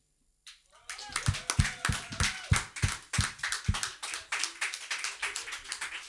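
After a performance at a slam poetry tournament, an audience breaks into applause, first a few loud claps that grow into a steady, rhythmic clapping from many hands, with some voices mixed in.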